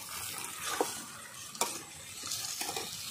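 Chopped tomato with turmeric, salt and spices frying in a pan for a rui fish curry: a soft, steady sizzle with a few sharp scrapes of a spatula against the pan, heard close and without talk.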